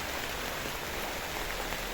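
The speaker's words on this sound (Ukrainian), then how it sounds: "і там кругом знову починається дощ" Rain falling steadily over a vegetable garden just after a storm with hail, a continuous, even hiss of drops on surfaces close by, with no voices.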